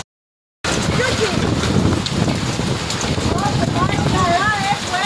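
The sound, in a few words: heavy hailstorm, large hail falling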